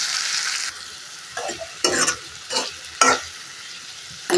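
Eggplant, potato and onion sauté in a pan, a close sizzle that breaks off into several short bursts of stirring and sizzling, separated by quieter gaps, with no talk.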